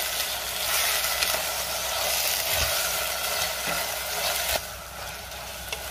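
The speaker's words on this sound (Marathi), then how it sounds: "कोबी आणि बटाटा। आता हे पुन्हा 1 मिनिटभर परतून घ्यायचे।" Cabbage and potato stir-fried in a pan make a dense, steady sizzle with occasional soft scrapes and a brief thump near the end, close and loud, no voices.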